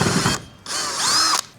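A power drill bores through the steel roof of a small trophy truck, two close whining bursts with a short pause between, the second longer and rising as the bit cuts through.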